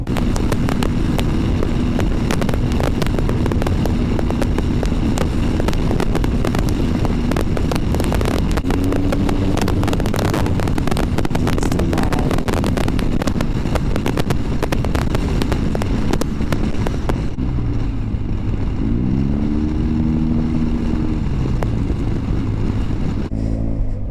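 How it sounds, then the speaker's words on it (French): A small scooter ridden along a road, its engine buzzing steadily with brief rev changes and wind rush, then easing to a lower idle-like putter near the end, loud and close. "Heureusement que j'aime conduire ce petit scooter."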